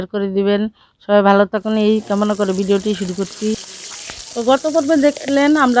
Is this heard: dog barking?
no